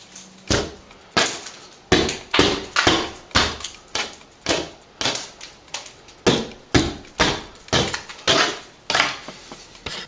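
Rhythmic scraping strokes of a tool cut back a crack in a plaster ceiling, about twenty short, gritty rasps in a steady, close series with brief pauses between them.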